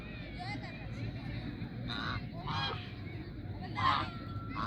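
Ducks or geese give several nasal honks over a constant background murmur of outdoor noise, with a few louder calls standing out near the end.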